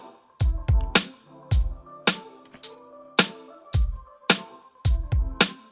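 A bouncy programmed drum beat with punchy kicks and crisp snares and hats runs over a looped guitar sample, steady rhythm repeating for several bars, close and with no voices.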